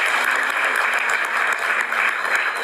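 Steady, dense applause from a crowd greeting a lottery winner, continuous and fairly loud throughout with no gaps.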